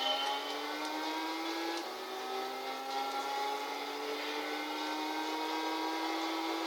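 A Mazda Furai '08 race car in Gran Turismo 6 accelerates in one steady, loud pull, its engine whine climbing through rising harmonics with a brief dip near two seconds.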